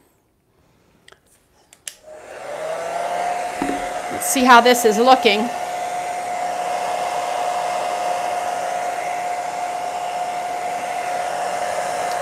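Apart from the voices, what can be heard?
blow dryer running during a lamp makeover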